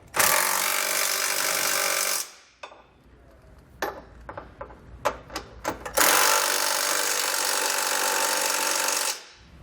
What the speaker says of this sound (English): we can come back with a 3/4 inch socket and snug it all up.